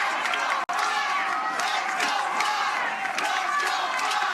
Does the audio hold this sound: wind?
no